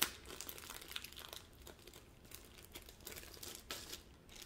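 Wrapping material crinkles and crunches steadily as a well-wrapped package of diamond painting supplies is opened, with scattered sharper tearing and rustling bursts close by, no talk.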